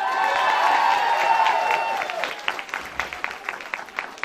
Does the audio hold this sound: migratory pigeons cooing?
no